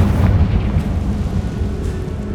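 In Hogwarts Legacy, a Confringo spell blast erupts as a loud, deep explosive burst, then rumbles on steadily at close range with no talk over it.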